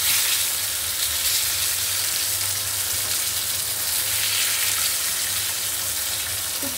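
Fish frying in plenty of oil in a pan sends up a steady, loud, close hissing sizzle that runs unbroken throughout, with no talk over it.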